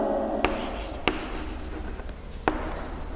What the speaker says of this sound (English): So I'll write the answer.